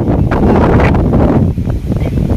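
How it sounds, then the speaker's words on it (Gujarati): Wind buffets the microphone outdoors in a continuous, loud, rumbling roar with gusty swells and a brief dip midway, over a rustling background. "મને પવન કેટલો આવે છે"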